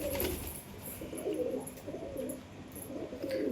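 A pigeon at a rooftop pigeon house coos in soft, low, repeated phrases, close by, over a steady background hiss and faint chirps from other birds.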